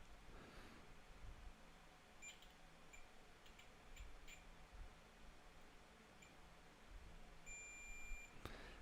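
A few short, faint electronic beeps from a multimeter continuity test during an electronics repair, scattered over a quiet background of low hum and small clicks.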